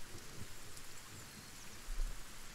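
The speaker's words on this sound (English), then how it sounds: "Oh, it's raining. I like the sounds in the game." Steady rain falls in the survival game Kenshi, a constant soft hiss with low rumbling underneath and a brief heavier swell near the end, no voices present.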